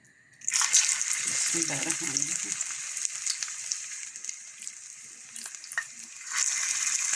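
Chicken fritters (bora) hitting hot oil, a bright crackling sizzle that bursts in and keeps hissing steadily for several seconds, with a brief low voice murmuring under it and the frying swelling again near the end.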